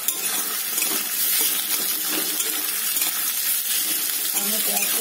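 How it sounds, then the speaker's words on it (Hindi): Onion, cumin and dried red chilli frying in a pan give off a steady, loud, close hiss and crackle of sizzling oil, with faint stirring scrapes underneath and no pause. "अब मैं प्याज को थोड़ा चला लूंगी"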